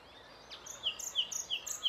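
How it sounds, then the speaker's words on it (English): A nightingale singing in short, bright, high chirps repeated in a quick series, fairly soft and heard alone without any talking. "nightingale"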